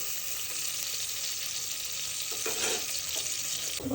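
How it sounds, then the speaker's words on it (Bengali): Chopped onions with garlic and dried chilies frying in oil in a pan: a dense, even hiss of sizzling fat fills the whole clip, with a few spoon scrapes and knocks near the end, close and steady, no speech. "পেঁয়াজগুলো ভালো করে ভেজে নিব।"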